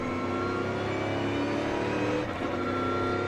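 NASCAR race cars at Fontana in 2023 during a race restart, engines held at high revs in a loud, steady, dense droning roar with no break.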